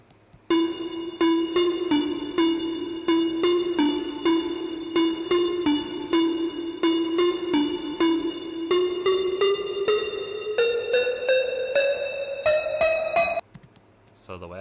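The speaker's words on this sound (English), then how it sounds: "There's this pluck that goes throughout it." A bright, gritty distorted synth pluck, for a pop production in Logic Pro X, repeats in a fast, even rhythm, its pitch slowly rising, then stops abruptly.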